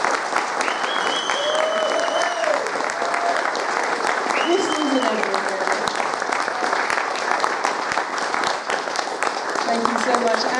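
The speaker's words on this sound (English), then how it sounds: "Can you please give these guys a huge round of applause?" Applause from a convention panel audience at Play Blackpool 2021, a dense, steady wash of clapping that runs the whole time, with voices and cheers mixed into the crowd noise.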